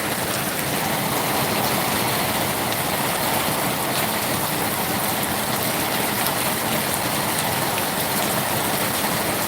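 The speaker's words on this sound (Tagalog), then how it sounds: "Malaki talaga ng patak ng ulan sa farmers" Heavy rain with large drops pours down steadily, a dense, loud, continuous patter on surfaces with no voices.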